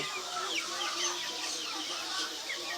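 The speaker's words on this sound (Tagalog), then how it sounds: "Ito na po yung mga manok, uh, mga Rhode Island at saka Royal Chicken." A flock of Rhode Island Red and Royal chickens on a native chicken farm clucks steadily and close by. Overlapping calls and chatter fill the whole stretch without pause.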